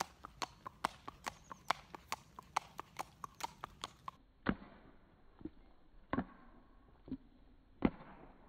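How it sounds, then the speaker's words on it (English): Hooves of a Tennessee Walking Horse in its running walk, a rapid, evenly spaced train of sharp clip-clop strikes that gives way to a few slower, louder, heavier hoof thuds. "this horse was bred to have a certain gait that none of the other gaited horses have, and that is for their running walk."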